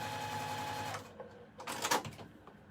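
A home sewing machine chain piecing quilt blocks hums steadily for about a second, then stops, followed by a few soft clicks and fabric handling sounds.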